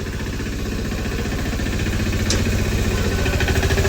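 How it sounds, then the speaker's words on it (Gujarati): A tractor engine runs close by with its tyre turning, giving a steady rhythmic chugging pulse with a faint metallic tick partway through, growing slightly louder toward the end. "ટ્રેક્ટર ટાયર ફરે આ રીતે"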